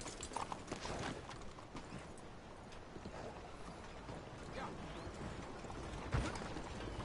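A horse's hooves clip-clop in a steady riding rhythm in Red Dead Redemption 2, soft and continuous over a faint background.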